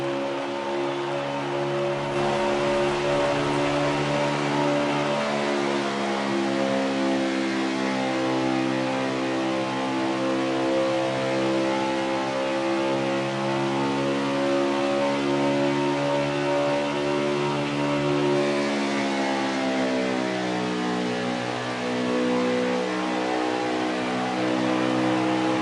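The number 34 race car laps Kentucky Speedway on its own, its engine a sustained loud drone whose pitch climbs and bends as it works through the gears and corners, with no voices.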